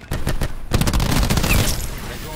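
Rapid bursts of automatic gunfire crackle in a first-person shooter video game, starting with a few separated shots, then dense continuous fire with booms that fades toward the end.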